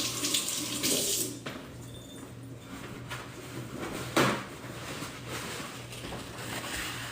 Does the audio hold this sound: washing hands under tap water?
yes